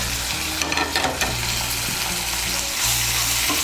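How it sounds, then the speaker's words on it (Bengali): Garlic paste and green chili paste frying in hot oil for a prawn and kochur loti curry: a loud, continuous close sizzle with stirring scrapes throughout. No talking. "রসুন বাটার কাঁচা লঙ্কা বাটাটাকে মিশিয়ে নিয়ে একটু ভেজে নেব"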